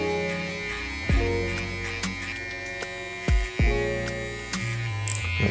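A Rebel hair trimmer with a number 4 guard buzzes steadily while cutting curly hair near the temple during a barber taper, with a few short dips and surges in its hum as it moves through the hair.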